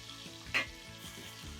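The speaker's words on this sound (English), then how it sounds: "turn your pork chops, and then have them continue searing on the other side" Pork chops searing in oil in a pan give a low, steady sizzle with one brief louder crackle, heard briefly and quietly with no voices.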